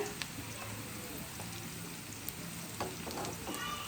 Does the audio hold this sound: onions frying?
yes